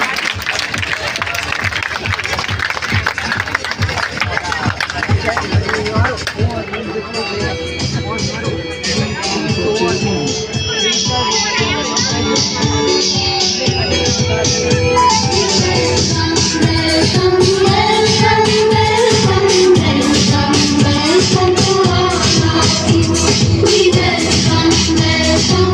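An audience at an award and teacher felicitation ceremony claps to welcome a guest, a long, dense applause blended with crowd murmur and loud music playing over a sound system throughout.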